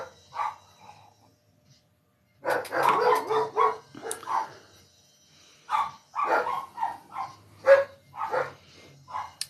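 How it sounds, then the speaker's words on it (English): Household dogs bark in bursts, a few sharp yips early, then a longer run of loud, repeated barks close by with short whimpers between, no talking over them. "they just bark at everything"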